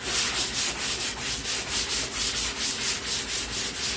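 Steady rhythmic rasping of sandpaper on bare wood of an old boat, quick back-and-forth strokes repeating evenly at close range, with no voices.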